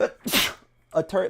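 One sharp sneeze from a person during live commentary on an Overwatch match, a sudden loud burst close to the microphone followed by a brief quiet gap before the same voice resumes talking.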